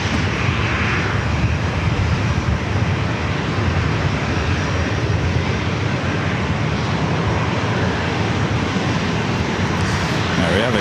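A Southwest airliner roars through its takeoff run at San Diego airport, a loud, steady jet engine rumble filling the whole stretch without letup.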